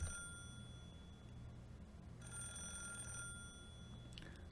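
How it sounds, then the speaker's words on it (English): Telephone ringing in the Higurashi visual novel game: a steady electronic ring sounds at a moderate level over a low background hum, pausing briefly and then resuming, with one short extra chime near the end. "The phone continued to ring."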